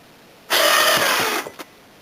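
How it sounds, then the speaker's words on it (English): An electric winch on a motorcycle carrier whirs for about a second as it backs off, close and loud, then stops abruptly with a brief clunk. "So back the winch off a little bit now."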